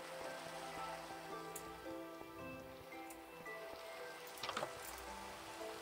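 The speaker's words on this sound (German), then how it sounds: "Es regnet sogar." Rain falls at night in the Minecraft survival game, a soft, steady hiss of drops with occasional brief patters, faint and alone without talk.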